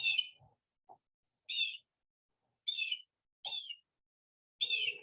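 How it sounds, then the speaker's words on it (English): Blue jay calls ring out alone in a quiet outdoor setting, five short, harsh, fairly faint cries spaced irregularly with pauses between, plus a few softer low chirps. "Here comes the blue jay."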